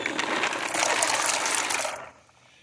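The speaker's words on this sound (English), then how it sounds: "We're going to pour them into the fresh water." Strained acorns poured into fresh water, a steady loud splashing gush lasting about two seconds that stops abruptly, leaving quiet.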